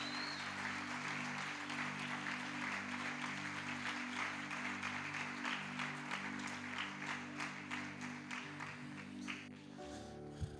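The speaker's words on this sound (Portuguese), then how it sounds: "Queria que você aplaudisse o Ministério de Crianças por mais um trabalho que foi feito aí." Church congregation clapping for the children's ministry, a broad sustained patter of many hands under loud sustained musical tones, with the music shifting near the end.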